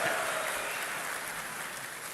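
A large conference audience gives continuous, even applause, a dense rain-like wash of clapping heard from some distance.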